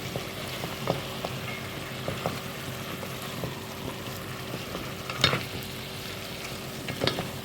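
Kuttanad-style duck curry being stirred in a pan, a steady soft sizzle with a few louder scrapes of the spoon against the pan, close up and with no talking.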